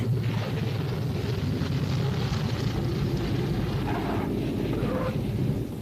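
Military aircraft circle over an airfield, producing a steady, broad engine rumble that fills the whole stretch at constant loudness, with some wind-like roar and no voices.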